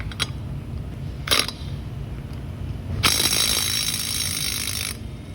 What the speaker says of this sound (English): Takes the lug nuts off with ease, as it should.